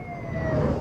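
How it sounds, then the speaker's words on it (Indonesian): A wailing ambulance siren sounds on a road near Puncak, Bogor, one steady rising and falling tone carried over low traffic rumble, fairly close and loud. "Ambulan prioritas ya guys."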